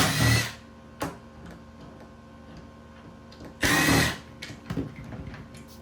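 A Ryobi power drill backs screws out of the end piece of a Ryobi speed bench's link system, giving two short, loud whirring bursts a few seconds apart with faint clicks in between.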